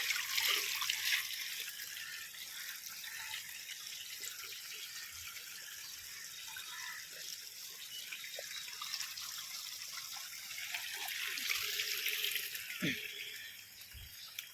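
Steady rushing and splashing water overflowing from a borewell after heavy rain in Almavadi, Dediyapada, runs continuously, a broad wash of flowing sound with occasional small knocks and no talking.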